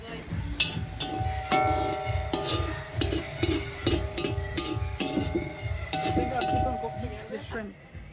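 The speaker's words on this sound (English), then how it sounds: "So we're frying up the shrimp." Shrimp frying in a pan for a Guyanese coconut choka, giving a steady close sizzle with rhythmic stirring scrapes and metallic clinks running through the whole stretch, no voices.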